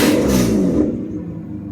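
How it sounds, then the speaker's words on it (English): Loud engine rev from a 1992 Mercedes 600SEL in a residential setting, a single strong burst of roaring that swells and then settles back toward idle, heard alone up close. "I'm gonna rev it real quick because it's gonna be very loud"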